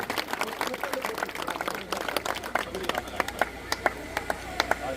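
Crowd applause at a village honoring ceremony in Haryana, with clapping coming in dense bursts and then sharp separate claps, heard under ongoing talk from a speaker.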